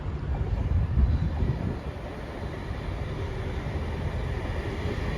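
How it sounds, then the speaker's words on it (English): A Class 68 locomotive-hauled train arrives on the Coventry to Leamington line, heard as a steady low rumble with a heavier surge near the start. The sound carries on evenly, at moderate distance and without speech. "we have the 68 hauled locomotive coming in"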